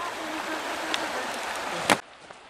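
A creek flows in a steady, continuous rush of moving water throughout, with one brief sharp knock shortly before the end.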